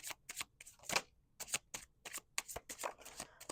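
Tarot cards being shuffled close by, a steady series of quick, crisp riffling snaps and soft slides in an otherwise quiet room.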